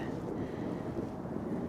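Steady wind buffeting the microphone outdoors, a constant low rumble with no pauses across the whole stretch.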